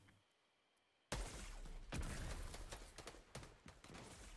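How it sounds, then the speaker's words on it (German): Gunfire in a Fortnite late-game arena match: after a second of near silence, a loud, dense burst of shots erupts and keeps going, with repeated sharp cracks and impacts rattling close by as shots fly past. "Ich höre schon Schüsse an mir vorbeiflitzen."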